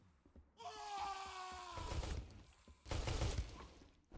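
Gunfire in the Space Station 14 game, a nuclear operative shooting a held-up crew member: two bursts of loud, harsh shots separated by a brief lull, with cries and groans mixed in.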